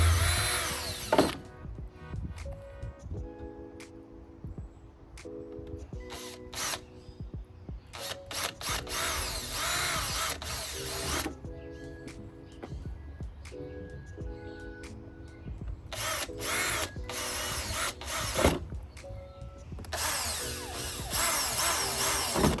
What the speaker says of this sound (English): I ended up having to use the drill method